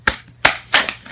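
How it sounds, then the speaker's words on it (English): Tarot cards spill and scatter during a shuffle, three sharp papery bursts of slapping cards about a third of a second apart, close and fairly loud with no talking. "Let's try that again without the cards exploding"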